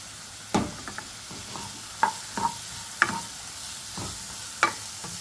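Curry leaves, green chili and carrot sauté in a pan: a low, steady sizzle broken by distinct spatula strokes scraping the pan roughly once a second, close and clear with no talking.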